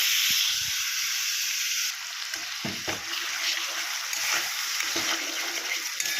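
Chili, ginger and garlic paste goes into onions and tomatoes frying in a pan, bringing a steady sizzle with brief wet splatters and scraping stirs, close and moderately loud, with no voices.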